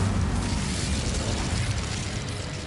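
Incendio fire spell cast in Hogwarts Legacy: a dense, roaring burst of flame that fills the whole moment loudly and steadily, fading slightly toward the end.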